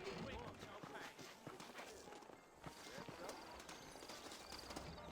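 Horse hooves clip-clop in the Red Dead Redemption video game as riders set out on saddled horses, with a steady trotting rhythm under game sound and a talking voice.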